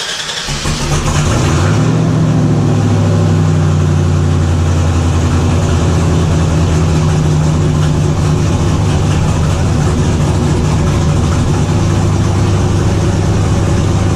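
An LSX V8 in a C3 Corvette fires up for the first time after a cam swap, cranking briefly, then catching into a loud, steady, rumbling idle that holds close up for the rest of the clip.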